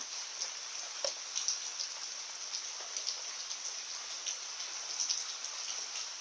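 Heavy rain from Cyclone Yaas falling in Odisha, a steady dense hiss of downpour with scattered drops striking nearby surfaces, continuous and close, with no voices.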